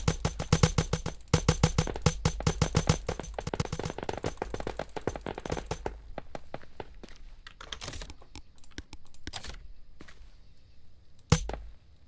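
Fireworks packed inside a chicken toy go off for New Year's Eve, a dense rapid crackle of bursts that thins into scattered pops with one sharp late bang.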